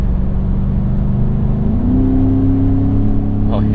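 A 2017 Ford F-150 Raptor powering through a sweeping corner at speed, its engine a loud steady drone heard from inside the cab that steps up in pitch partway through.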